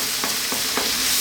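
Shrimp fried rice is stir-fried over high heat, a constant sizzle and frying hiss broken by three rhythmic scraping stirs of the spatula in the pan.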